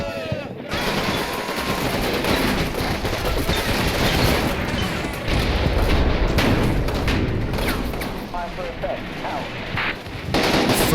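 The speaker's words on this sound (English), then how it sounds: "It's an intense firefight." Sustained gunfire from an intense firefight in Combat Mission: Fortress Italy, a dense, continuous roll of rifle and machine-gun bursts with occasional booms, loud and unbroken throughout.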